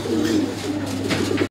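A khaki pigeon coos in a low, continuous rolling murmur, close and clear, with no talking over it.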